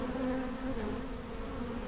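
Defensive honeybees buzz in a dense, steady, close swarm hum during a cutout removal from a house.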